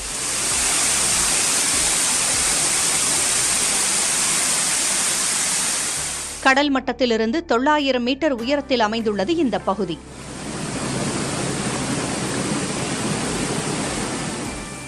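Pepper Falls, a waterfall in hill country about 900 metres above sea level, roars with a loud, steady broadband rush that breaks off while someone narrates over quieter background, then the full torrent returns alone.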